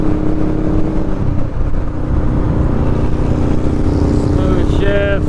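Motorcycle engine droning steadily while riding, loud and close with some wind rush, the pitch shifting slightly as it runs on.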